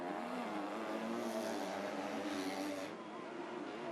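Motocross bikes racing on a rough dirt track with deep ruts and braking bumps at the MXGP of Italy MX2 race, high revving engines droning steadily and loudly throughout with shifting pitch as riders pass.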